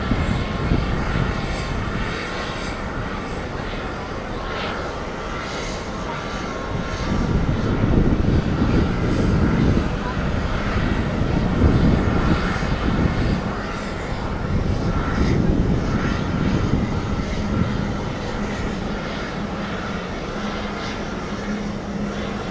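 An airplane at JFK airport roars steadily with broad engine noise, swelling louder around the middle as it passes fairly close, then easing back as it moves off.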